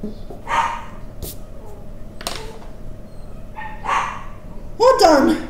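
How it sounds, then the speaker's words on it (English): A pet dog barks a few times from some distance, the sharp yips rising late in the stretch over quiet room noise. "the way he's barking"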